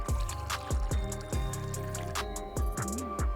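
Absinthe poured into a chilled coupe glass, a run of small liquid drips and glugs with short splashy onsets and a brief trickle, close and fairly quiet, no talking.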